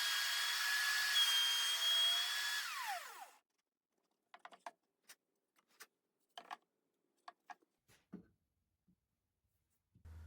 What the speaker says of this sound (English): the simplest way is to use a keyhole bit in the router table